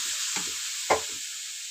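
Carrot halwa cooking in a pan, a soft steady sizzle with a couple of brief stirring scrapes, fairly quiet and without talk.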